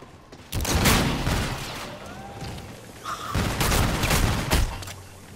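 Rapid bursts of automatic gunfire in Call of Duty: Infinite Warfare, loud and close, broken by a short lull before the shooting resumes.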